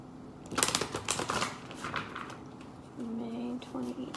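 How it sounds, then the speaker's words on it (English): Rumi Oracle cards are shuffled and drawn in a quick run of crisp, close riffling clicks and slaps, followed by a brief murmur of voice. "I'm just gonna pull a Rumi Oracle card"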